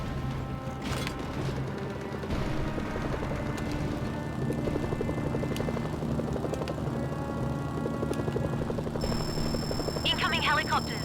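Helicopter rotors thrum continuously in the war game Mercenaries: Playground of Destruction, a steady mechanical chop beneath a man's radio-style voice, with bangs and beeping game effects near the end.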